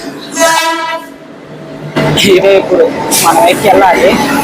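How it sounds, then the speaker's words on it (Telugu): A passenger train rolls into a station with a loud horn blast, then rumbling carriages and squealing brakes, while people talk nearby. "చూడండి అదే మనం వచ్చే ట్రైన్ అనమాట మన కోసం వచ్చేస్తుంది"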